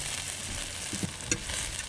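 Chicken egg foo young fries in a pan with a soft, steady sizzle and a few faint clinks of stirring, quiet and close with no voices.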